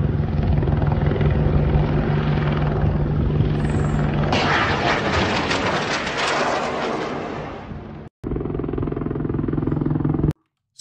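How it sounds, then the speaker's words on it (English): An Apache attack helicopter flies over Israel, its rotor and turbine roar loud and steady across the whole stretch, swelling briefly, then cutting to a short gap before the heavy thudding drone returns. "two videos here showing an Apache attack helicopter over Israel targeting something in their airspace"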